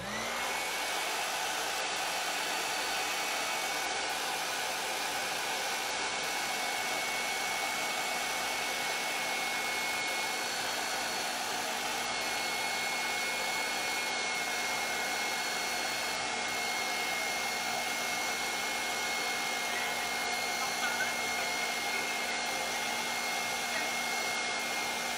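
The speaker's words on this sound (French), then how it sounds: "Là, je vais vous faire un petit peu de séchoir." A hair dryer runs steadily and close, drying a layer of image transfer gel, its even whooshing blow continuing unbroken with no talk over it.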